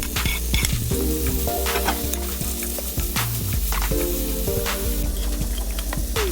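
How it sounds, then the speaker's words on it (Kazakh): Chicken strips, boiled first and then cut into sticks, sizzle loudly and steadily in a hot pan. Repeated scraping and clattering from stirring cut through the frying noise. No one speaks. "Содан кейін оны қуырамыз."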